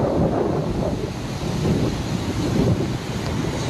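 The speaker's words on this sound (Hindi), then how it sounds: "सतलुज नदी का जल स्तर बढ़ चुका है" Swollen Sutlej river rushing after water release from the Karcham dam, a dense continuous roar of turbulent water with wind buffeting the microphone, loud and steady throughout.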